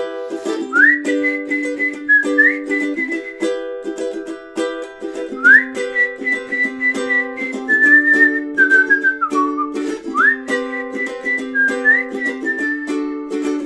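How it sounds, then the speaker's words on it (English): Someone whistles a lilting melody solo over a steady backing of sustained tones, notes rising and sliding in repeated phrases. "Maybe whistling solo here."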